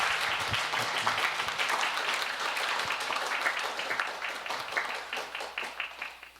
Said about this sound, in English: Let's give Hector another round of applause.